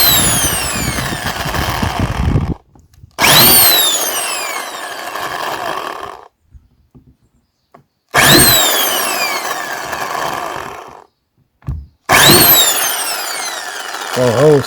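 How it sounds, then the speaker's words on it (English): A power drill bores holes into a Viking Reload kayak hull, running in four loud close-up bursts of whining, rising-pitch motor noise, separated by short pauses. "No one likes drilling a kayak"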